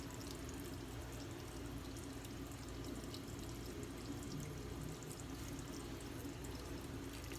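Water runs steadily over a shaving brush being rinsed out after bowl lathering. A constant, even rush of water continues with no pauses and no voices.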